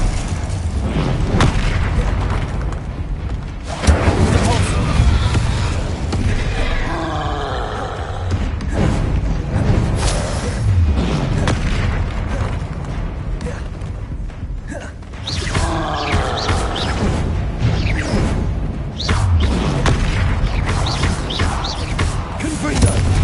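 Hogwarts Legacy spell blasts, fiery explosions and booming impacts from Confringo and Incendio casts on PS5, rolling one after another in a loud, dense battle with mechanical creaks and thumps, faint voices occasionally underneath.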